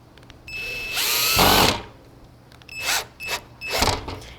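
Power drill driving screws into a Vicrez VZR2 style front bumper lip on a Chevrolet Corvette, one long whirring burst followed by several short bursts, close and loud.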